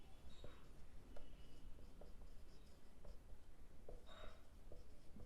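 A pen or pencil writes out a fraction word problem on paper, faint scratchy strokes and taps in an irregular rhythm, close and quiet against a soft background hiss, with no speech.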